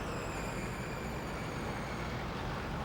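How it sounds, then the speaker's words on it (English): A city street at rush hour, with cars, buses and trucks going by, makes a dense, steady, low roar of passing vehicles with no breaks. "Rush hour in most major cities and towns provide an influx of pollution and noise."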